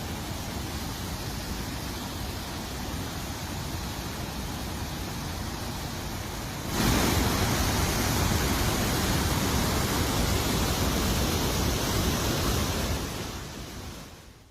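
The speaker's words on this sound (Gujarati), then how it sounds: "આ જ વિસ્તારમાં આવેલ બાલાપાવા ધોધ પણ ધમધમી રહ્યો છે" Balapava waterfall in flood after heavy rain, a dense, continuous roar of rushing water that swells louder midway and then fades out at the end, with no voices.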